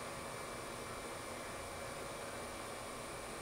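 Tsugami B0203-III Swiss-type precision CNC lathe spindle spinning at 5,000 RPM, a steady, faint high-pitched whine with an even airy hiss and no voices.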